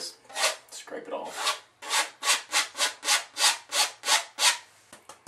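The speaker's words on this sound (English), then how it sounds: "Grab that excess color, just scrape it off." A brush scrapes excess oil paint off while wet-on-wet painting a mountain landscape, making a rhythmic series of about ten close, loud rasping strokes after a few irregular scrubbing rubs, with no talk.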